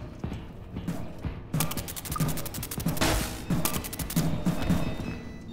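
Rapid electric zapping crackles in the game Content Warning, coming as dense bursts of sharp snapping pulses that repeat through the clip, loud and close.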